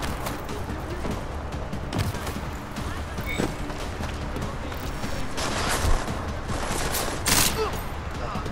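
Gunfire in the video game Deus Ex: Mankind Divided comes as scattered bursts and sharp single shots over a busy game soundscape, with a player talking in between.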